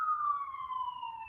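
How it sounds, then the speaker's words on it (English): An emergency vehicle siren outside holds a single steady tone that slowly drops in pitch as it passes, clear and fairly loud against a quiet background. "should we wait for the sirens to end?"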